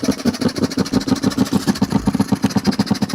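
An engine of a vehicle safety system runs steadily, with a fast regular pulsing throb that repeats evenly and stays loud and close throughout, and no voices are heard over it.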